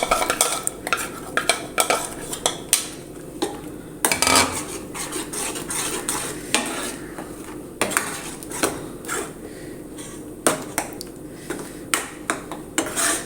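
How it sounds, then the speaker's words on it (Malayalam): Apple pulissery with ground coconut paste is stirred in a pan over a low flame, with repeated clinks and scrapes of a spoon against the metal pot. "അരച്ചെടുത്ത അരപ്പ് ഒഴിച്ചു കൊടുക്കാം ലോ ഫ്ലെയിമിൽ വേണം അരപ്പൊക്കെ ചേർക്കുമ്പോൾ അത് ഇളക്കിയെടുക്കാം"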